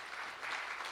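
Brief, fairly soft burst of audience clapping in a hall during a university graduation degree ceremony, a continuous wash of many hands with no talk over it.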